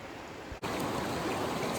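A river flowing over rocks in Worlds End State Park, Loyalsock Forest, Pennsylvania, a steady close rush of water that is briefly interrupted by a dull bump.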